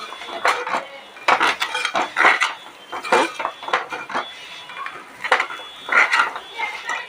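Bora rice is dry-fried on low heat in a pan and stirred. Close, irregular bursts of metallic scraping and clinking come from the utensil against the pan, separated by short quiet gaps.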